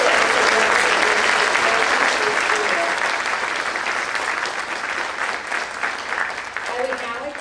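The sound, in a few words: audience applause for physical fitness awards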